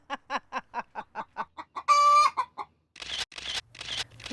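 A chicken clucks about ten times in a steady, close rhythm, gives a brief shrill squawk, then makes a few rougher, noisier calls.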